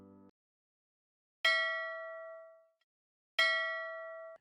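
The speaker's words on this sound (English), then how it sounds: "So for some reason they're using 3 bell sounds, which I tried to hear it in the game." Two ship bell strikes from the game Stormworks, each a bright ringing clang that decays slowly, spaced about two seconds apart, clear and alone after a brief low thump.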